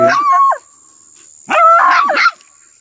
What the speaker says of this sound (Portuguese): fuleiragem de cachorrada nova